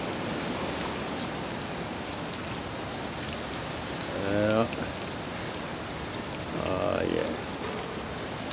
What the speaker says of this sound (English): I imagine that rain is stinging like sand on the beach.